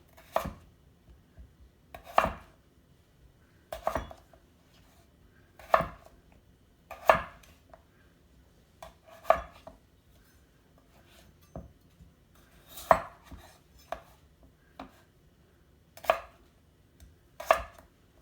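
A knife cuts potatoes into wedges on a board: a dozen or so crisp, separate chops at an irregular, unhurried pace, close and clear against a quiet background.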